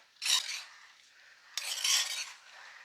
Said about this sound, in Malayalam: ഇളക്ക നിർത്തരുതേ ഇളക്കിക്കൊണ്ടിരിക്കണം